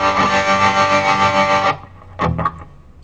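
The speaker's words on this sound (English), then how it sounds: "I'm going to add a little bit of tremolo." An electric guitar played through a Peavey amp pulses with a slow tremolo, its distorted chord swelling rhythmically before stopping, followed by a couple of brief string scrapes.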